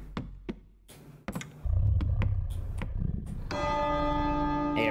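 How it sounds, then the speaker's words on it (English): Church bells ring out in a ghost exorcism video game, Remnant Records: sharp separate strikes give way to a loud, sustained metallic peal with rich ringing overtones over a low rumble. "So the bells are too loud for him, basically."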